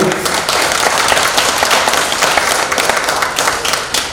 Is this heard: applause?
yes